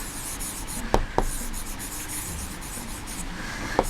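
Writing on a board during a geometry lesson, soft continuous rubbing strokes with a few sharp taps, quiet and close, with no talk over it.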